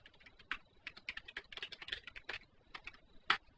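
Rapid, close keystrokes on a computer keyboard as a short string is typed in, uneven bursts of light clicks with small pauses, soft and alone.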